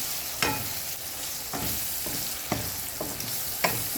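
Egg stirred and fried with spices in a hot pan, giving a constant loud sizzle broken by regular scraping strokes of a spatula, close up with no talking.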